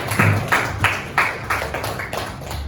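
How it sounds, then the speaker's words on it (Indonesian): Students in a classroom clapping in a loose, slightly uneven rhythm, about seven or eight distinct claps at close range that thin out toward the end. "Tepuk tangan untuk kalian semua."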